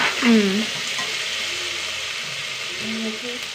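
Food sautéing in a pan gives a steady soft hiss with a few faint scraping stirs, while a voice speaks briefly over it near the start and again near the end.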